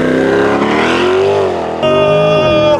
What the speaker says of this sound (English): Let's go for a launch in the new E-Ray